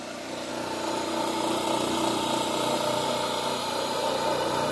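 A Permanent Magnet RotoVertor motor runs on 60 Hz AC with a pony motor, giving a steady, close mechanical hum and whir that rises slightly at the start and then holds constant.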